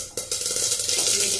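Yellow mustard seeds spluttering in hot oil in a home kitchen pan, a bright continuous sizzle with quick crackling pops, close and fairly loud, starting abruptly and holding steady.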